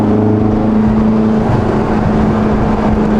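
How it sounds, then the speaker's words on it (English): Stock turbo on a JDM car, a steady loud engine drone with a low whine and hum running the whole time, close and continuous with no talking. "Bro, the turbo sounds insane."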